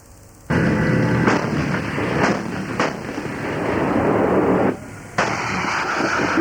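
Gunfire crackles across a military shooting range used by combat units, a dense, loud wash of reports with a brief dip before it resumes, heard through a radio-like broadcast hiss.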